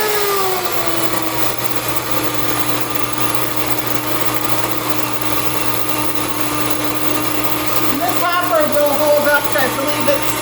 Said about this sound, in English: this particular mill grinds very fast